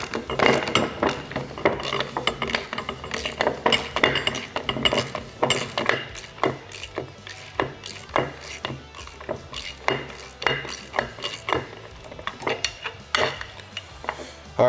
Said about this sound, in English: you're using a ratchet when tightening the nut